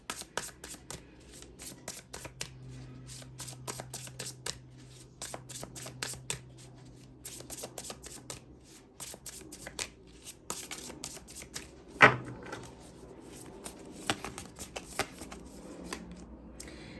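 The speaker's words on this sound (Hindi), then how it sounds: "चलिए इस डेक से भी आप कुछ कार्ड्स निकालेंगे" A tarot card deck is shuffled by hand in a quiet room, with rapid, crisp riffling flicks that come in repeated bursts and one sharper snap partway through, close and fairly soft.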